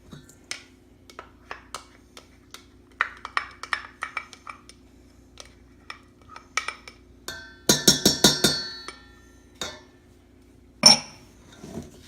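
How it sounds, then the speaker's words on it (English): Meatball mixture of meat, parmesan, seasonings and ketchup being mixed by hand in a bowl: soft wet squelches and scattered clicks, then a quick run of sharp clinks against the bowl partway through and one last loud knock near the end. "Mix that all in"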